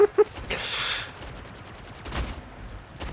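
A quick rattle of weapon fire in the sci-fi arena shooter Splitgate, a few sharp shots at the start followed by a hissing burst and scattered fainter shots, all fairly close and loud.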